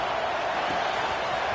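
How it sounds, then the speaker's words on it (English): Home crowd roaring at a college football game, Miami against Clemson, a dense continuous wall of cheering and noise with no breaks, loud and steady throughout. "how nice is it to have the home crowd going absolutely bananas?"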